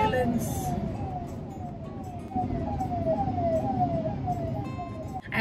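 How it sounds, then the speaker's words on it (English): An ambulance siren wails in a rapid repeating rise and fall over steady traffic noise, fairly loud and close. "There is an ambulance."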